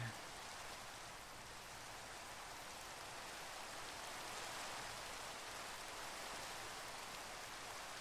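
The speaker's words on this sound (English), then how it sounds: "And back into the rain." Continuous broadband hiss of rain falling in Minecraft, steady and even throughout with no other sounds standing out.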